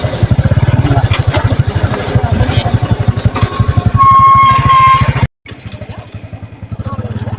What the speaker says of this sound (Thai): ลุงเฮงขี่รถซาเล้ง